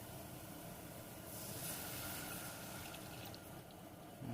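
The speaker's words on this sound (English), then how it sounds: "then I'm going to add the first cup of milk" Milk pours steadily into a pot of thick homemade loaded potato soup, a continuous soft liquid wash close by with no talking.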